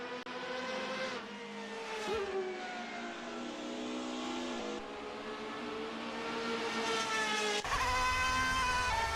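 A DTM touring race car in a sim racing game howls through corners and straights, its engine climbing and dropping through gear changes with sharp revs and a louder surge near the end, no voices over it.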